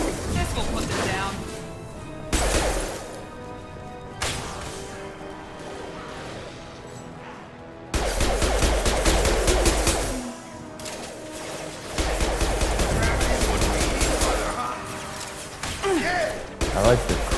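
Gunfire loaded with cryo and incendiary ammo in Mass Effect 2, loud bursts of rapid shots in several separate volleys over battle noise and music, with voices speaking between them.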